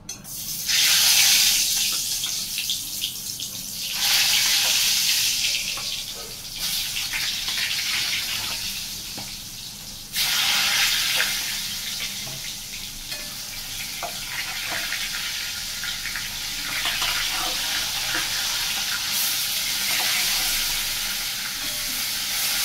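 Cut pointed gourd (potol), salted and turmeric-coated, frying in hot oil in a pan, a close steady sizzle that flares up in loud bursts, likely as the pieces are stirred, with no talk.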